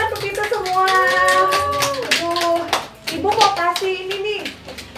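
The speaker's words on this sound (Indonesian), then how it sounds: "Tepuk tangan untuk kita semua." Clapping in a classroom breaks out among children, a burst of hand claps mixed with kids' chattering and sing-song voices that carry on over and around the applause.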